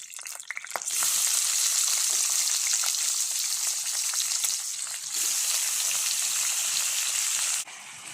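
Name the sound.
tomatoes frying in hot oil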